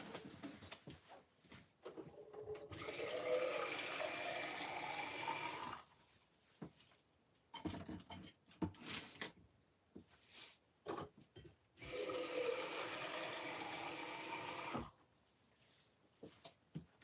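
Water running to fill a container for painting, splashing in two sustained pours with clinks and handling noises in between.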